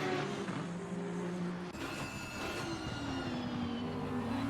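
GT3 race cars, including an Audi, racing around the Zolder circuit, engines droning and shifting pitch continuously at close to moderate range with no pauses.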